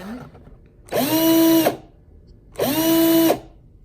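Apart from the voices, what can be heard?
power drill drilling wood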